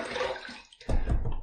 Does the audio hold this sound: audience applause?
no